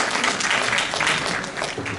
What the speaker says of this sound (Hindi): एक बार जोरदार तालियां हो जाए रजनी जी के लिए।